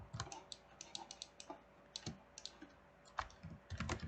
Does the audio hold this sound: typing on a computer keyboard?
yes